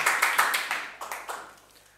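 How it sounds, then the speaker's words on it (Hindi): A classroom claps for a student: a short burst of about eight sharp claps that fade away over two seconds, with no talking. "ताली बजाएं इनके लिए।"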